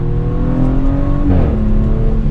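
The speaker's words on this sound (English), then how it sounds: "Hopefully you guys can hear that exhaust just a little bit." A 2020 Audi S7's exhaust drones steadily from inside the car, its pitch shifting as the engine changes speed, with a steady road hum beneath.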